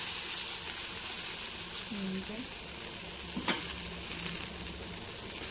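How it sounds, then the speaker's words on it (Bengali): An egg omelette frying in a pan, a soft continuous sizzle with a faint tonal hum and one sharp tap midway, fairly quiet and without speech. "এখানে ডিমের অমলেট হচ্ছে"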